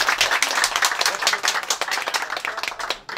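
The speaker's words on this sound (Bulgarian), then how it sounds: "Има ли живи хора, които ще ръкопляскат на Господа?" An audience claps loudly and steadily at Emo's birthday celebration, a dense, continuous wash of many hands that briefly dips near the end.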